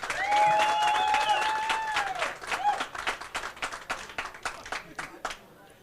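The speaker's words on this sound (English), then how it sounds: "We have a nice round of applause for Jeffrey DeLuna." Crowd applause for a pool player being introduced at the U.S. Open 10-Ball Championship semi-final, starting under an announcer's voice and tone, then continuing as thinning, uneven clapping that fades toward the end.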